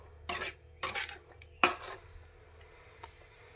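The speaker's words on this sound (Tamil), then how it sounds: "இதை போட்டு இப்படி கலக்கி விடணும்." Kuzhambu being stirred in a pot, three short bursts of scraping and clinking from a utensil against the metal, with quiet stillness between them and no talking.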